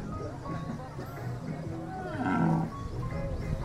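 Carabao and cattle at a rural livestock auction, with a deep, drawn-out bovine bellow swelling near the middle over a busy crowd murmur and nearby talking.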